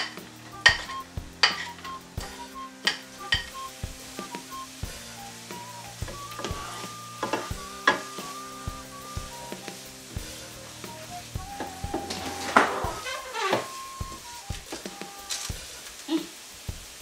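Carrots and onions fry in a hot pan on an electric hob for spaghetti bolognese, a soft sizzle broken by repeated clicks and scrapes of stirring, with a faint tonal hum in the background.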